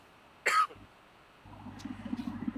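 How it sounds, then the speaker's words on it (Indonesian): A single short cough, close and fairly loud, from a man in an Indonesian-language talk, followed by a low background hum. "Terus batuk gua tak kunjung reda."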